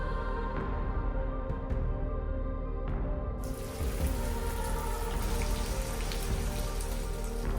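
Steady rain falls on Nusa Penida, a continuous close hiss of drops on surfaces with a few sharper drips, growing brighter and denser partway through.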